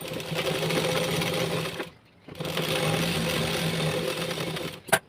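Sewing machine stitching the lining of a blouse runs in a steady, loud mechanical whir, pausing briefly near the two-second mark before running on again, with a small knock at the end.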